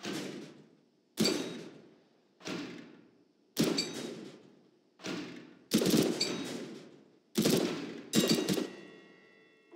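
Eight separate gunshots from a Counter-Strike: GO training course, fired at targets one at a time with pauses of about a second between them, each a sharp, loud crack with a long ringing tail and no talking.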